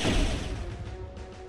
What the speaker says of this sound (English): that noise was just doors closing.